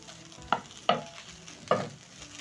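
Vegetable fried rice is tossed in a pan over a low sizzle, with three distinct scraping stirs of the spatula at uneven intervals. The sound is close, and no one speaks.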